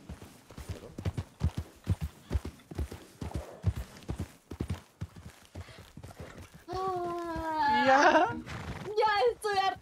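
Horse hooves clip-clop in a steady trotting rhythm in Red Dead Redemption II, close and clear, under frequent speech, with a horse's whinny rising near the end.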